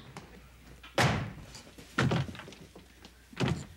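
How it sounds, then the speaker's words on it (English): Indoors, a door is slammed shut and locked: three separate heavy thuds with rattling, close and fairly loud, and no speech. "She locked the door."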